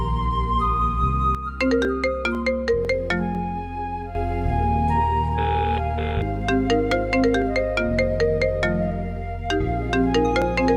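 A phone ringtone plays for a call that goes unanswered, a loud continuous synthesized melody with repeating tuneful notes and chords and no voices.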